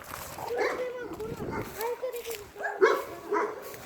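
Dogs bark and yip in short bursts outdoors near a building, mixed with people's voices and a noisy background.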